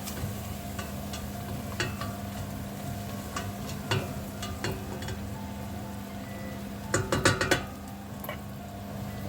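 A spoon stirs pumpkin and all-purpose seasoning in a pot for Jamaican cornmeal cou cou, tapping and scraping in scattered clinks over a low, steady background, with a brief cluster of quick clatters near the end.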